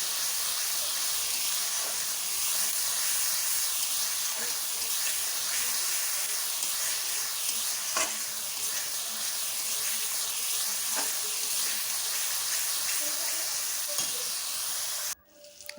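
Spice paste with salt, turmeric and chili powder frying in oil for chicken curry, a steady close sizzle and hiss with occasional crackles and faint stirring that runs unbroken until it stops near the end.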